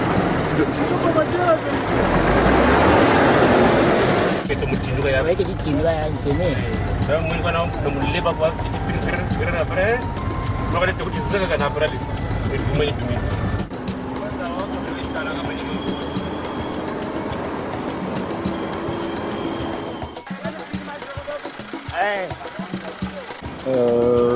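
A heavily loaded vehicle labours along a rough, dangerous road, a continuous rumbling drone with rattling underneath, close and steady; voices talk over it for much of the time.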